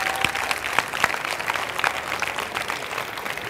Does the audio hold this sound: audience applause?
yes